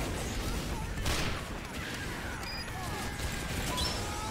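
Gunfire in the video game TF2, a short burst of sharp cracking shots layered over a busy, noisy battle din, moderately loud throughout with no talk.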